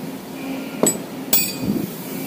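Two sharp metallic hammer taps ring out on a vise bolted to a CNC machine table, each strike clear and close with a brief bright ring in an otherwise quiet workshop.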